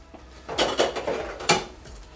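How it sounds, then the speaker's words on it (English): Dirty dishes are cleared away close by, with a few clinks and clatters of plates and cutlery in quick, uneven bursts over a quiet room. "Dirty dishes. Cleared away."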